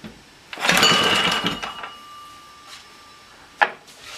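A Clinton B700 small engine catches briefly after a carburetor cleaning, a loud sputtering burst lasting about a second, then fading to quiet before one sharp knock near the end.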